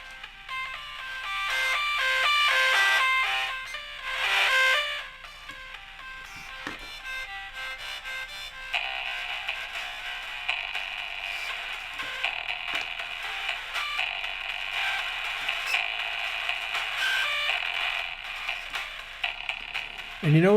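A music track runs through the Airwindows Nikola audio plugin, giving a buzzy, gritty, mid-heavy processed tone that shifts character partway through and holds steady at moderate level.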